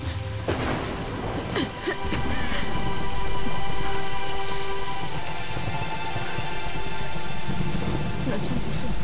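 Heavy storm rain in the Tomb Raider (2013) video game pours down steadily and loudly, with rumbling thunder and spattering drops on surfaces forming a dense, continuous wash of sound.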